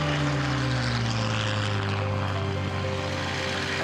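A Spitfire's piston engine drones steadily in flight, a loud, continuous propeller hum with no voices.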